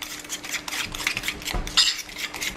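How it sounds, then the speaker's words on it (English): A fork whisks egg for a microwave hot chocolate cake in a dish, producing quick, close clinks and scraping taps against the bowl in an uneven rhythm. "we'll just mix it with a fork here to get it nice and mixed together"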